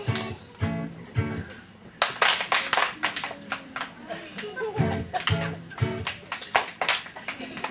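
Children clapping along in bursts at a children's song performance, rapid hand claps starting and stopping abruptly, with voices talking and calling among them.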